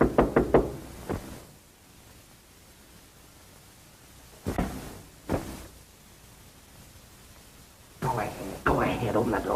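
Several sharp knocks on a door come in short bursts, loud and close, with quiet gaps between the groups of raps, in an early 1930s film scene.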